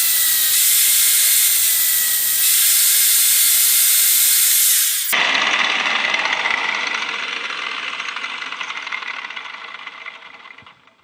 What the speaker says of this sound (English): I'm going to drill out the flywheel holes a little bit